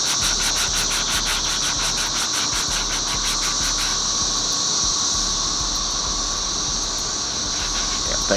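Sandpaper rubs steadily over the curved surface of a Cutlass center console in quick, even back-and-forth strokes. The rasping runs close and continuous, with a slight shift in texture partway through.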